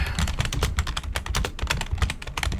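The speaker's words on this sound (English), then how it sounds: "Sorry about the loud keyboard noise" Close, loud typing on a computer keyboard, a rapid irregular burst of key clicks and clacks with no voice over it.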